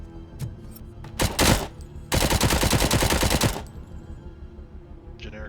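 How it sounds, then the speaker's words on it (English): A generic submachine gun firing in a video game: a short burst, a pause, then a sustained loud rapid-fire stream of about a second and a half, followed by quieter game sounds and no talk. "Generic submachine gun."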